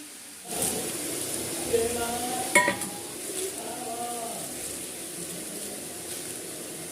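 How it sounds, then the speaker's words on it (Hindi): Radish and eggplant pieces stir-fried in a kadhai, with a soft, steady sizzle and scraping, clinking stirs against the pan, one sharper clank partway through, recorded up close with no talking. "जितने भी हम मूली और बैगन काटे थे उसको यहाँ पर थोड़ा थोड़ा करके हम कढ़ाई में डालेंगे फ्रेंड्स और उसको अच्छे से भूनेंगे"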